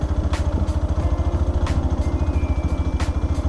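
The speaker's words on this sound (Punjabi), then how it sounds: "ਮੈਨੂੰ ਮੇਰੇ ਆਪਦੇ ਮੋਟਰਸਾਈਕਲ ਦੀ ਆਵਾਜ਼ ਸੁਣਦੀ ਆ ਬਸ" A motorcycle engine thumps in a fast, even rhythm while riding, loud and close, with faint higher clatter above the steady drone.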